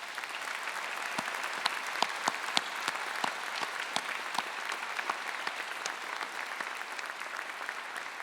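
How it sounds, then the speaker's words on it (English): Graduates at a Swinburne graduation ceremony give a round of applause to thank the staff: dense, sustained clapping from a large crowd with no gaps, steady in loudness throughout. "Graduates, would you please join me in a round of applause to thank the Swinburne staff?"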